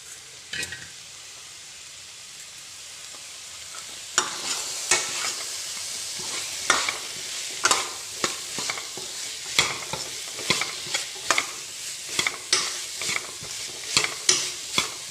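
Cut pieces of tinda, a round gourd, go into a pan to fry as a dry vegetable dish: a soft hiss, then a louder sizzle that rises at four seconds, and regular scraping stir strokes repeating to the end, with no voices.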